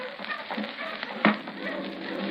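A steady, rushing roar like wind sweeping through a great many trees, continuous and fairly loud, with one brief sharp knock partway through.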